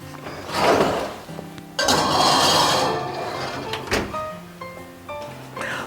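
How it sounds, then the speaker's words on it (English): A baking dish of purple potatoes goes into the oven with a loud clunk and rattle, an oven door thumps shut and dishes clink nearby. "let's put that in the oven and get it cooking"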